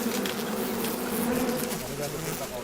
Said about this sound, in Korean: 아주 강한 벌이에요